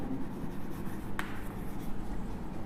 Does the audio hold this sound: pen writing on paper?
yes